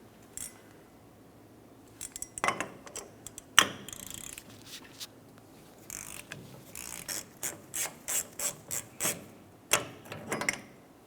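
A ratchet with a 2.5-inch socket clicks in irregular bursts while removing the rear hub nut on a 1994-2002 Ram 2500, with faint mechanical rubbing between strokes and a rapid run of ratcheting toward the end.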